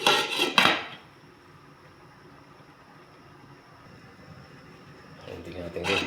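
A metal lid clatters onto a cooking pot of mackerel simmering in coconut milk with moringa leaves, a brief clanking burst followed by quiet, with another soft rattle near the end.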